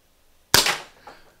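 A single shot from a Lancer Scorpion .50 PepperBall launcher, one sharp, loud pneumatic crack fired close by in quiet surroundings, followed by a short decaying echo.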